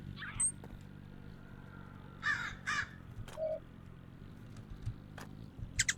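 Birds in a video game aviary give harsh crow-like caws, several separate calls spaced irregularly over a quiet low hum, some close and loud, others fainter.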